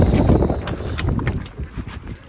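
Strong wind buffets the microphone outdoors on a garden allotment plot in March, giving steady loud rumbling gusts with scattered crackles throughout.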